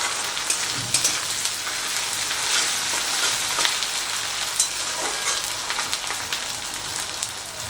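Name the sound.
ginger garlic paste frying in a pan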